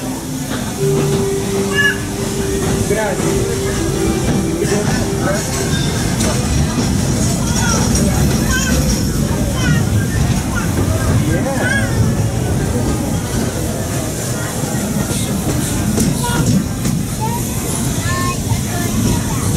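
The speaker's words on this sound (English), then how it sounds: "There are some who say that this steam train is a little old-fashioned" A Walt Disney World Railroad steam train rolls around Magic Kingdom with a steady rumbling, hissing ride noise throughout, mixed with passenger chatter and background crowd babble.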